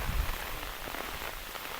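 Storm rain in Konkan falls hard and continuously, a close, constant wash of drops on surfaces, with a brief low thump at the very start.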